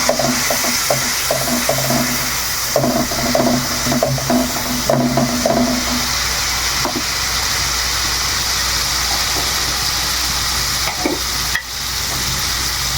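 Shrimp and onions with turmeric are stirred in a hot pan, steady sizzling hiss with rhythmic spatula scraping early on, then a smoother continuous fry.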